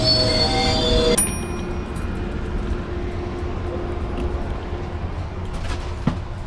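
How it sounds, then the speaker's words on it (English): Metrolink commuter train arriving at a station, a low rumbling roll with a brief high squeal of brakes early on, then a steady idling hum and a sharp clank near the end. "our train eventually showed up"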